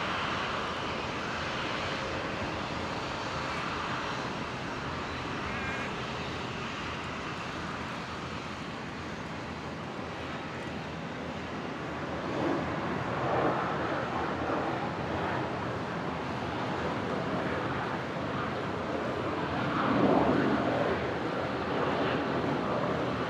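A Qantas Boeing 737-800 arriving from Sydney comes in to land at Brisbane International Airport, a faint, steady distant jet rumble that swells slightly toward the end.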